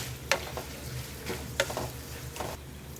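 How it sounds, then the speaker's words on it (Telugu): Dried red chilli pieces and asafoetida fry in hot oil as a tempering for raw mango pulihora. A soft, steady sizzle runs throughout, with a few light stirring clacks at intervals. "ఇప్పుడు ఇందులో కొద్దిగా ఎండుమిర్చి ముక్కలు అలాగే ఫ్లేవర్ కోసం ఇంగువ వేసేసుకొని మరొక నిమిషం ఫ్రై చేసేసుకుందాం"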